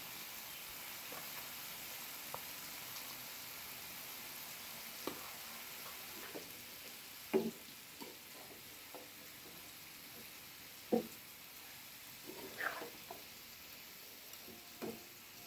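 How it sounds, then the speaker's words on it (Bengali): Bitter gourd pieces frying in hot oil in a pan, a soft continuous sizzle with occasional stirring clinks and scrapes, fairly quiet and close. "এই তেলের মধ্যে এখন করলাগুলো দিয়ে দিলাম।"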